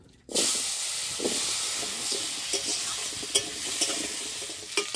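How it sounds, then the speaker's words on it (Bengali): Sliced potatoes drop into reused oil left over from frying fish in a kadai, bursting into a loud continuous sizzle after a brief quiet start, with occasional clicks and scrapes of stirring. "ওই তেলের মধ্যে আলুগুলো ভেজে নেবো"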